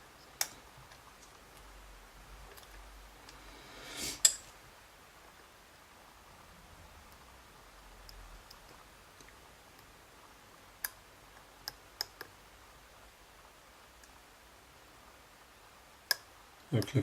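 Pins in an Azbe HS7 lock give sparse, faint, sharp clicks as it is picked, isolated ticks spread over long quiet stretches with a couple of louder snaps.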